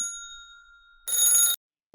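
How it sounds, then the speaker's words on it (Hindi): A phone rings with a clear electronic tone: first a sustained ring, then a short pause, then a brighter, busier burst before it cuts off, heard at moderate volume with no talking. "राहुल का फोन बजता है।"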